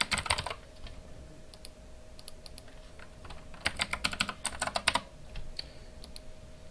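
Keys clack on a computer keyboard as a password is typed, short bursts of taps separated by pauses, close and fairly quiet over a faint steady hum.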